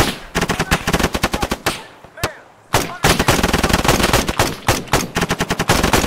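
Machine-gun and rifle fire in the Arma 3 video game, loud rapid bursts of close gunshots with a brief pause in the middle, then sustained fire resumes.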